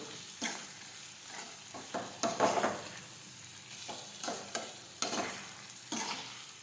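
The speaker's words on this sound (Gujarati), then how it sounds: "ફરી પાછું આપણે સાતળી લઈશું." Kantola (spiny gourd) curry being sautéed with lemon juice in a pan, with repeated stirring scrapes and soft sizzling in short bursts, close and moderately loud, no talk.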